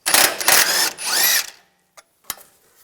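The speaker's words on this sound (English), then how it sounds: "And then a 19mm socket, take the nut off." A power tool with a 19mm socket spins a sway bar link nut off a 2011-2014 Hyundai Sonata in a loud, close whirring burst of about a second and a half, followed by a couple of sharp clicks.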